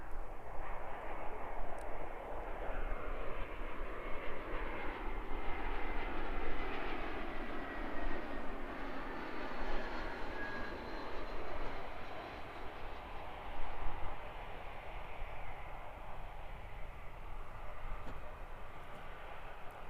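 An Airbus A320 airliner comes in to land at Christchurch, a broad distant jet roar swelling and fading steadily with a faint shifting whine, heard alone outdoors.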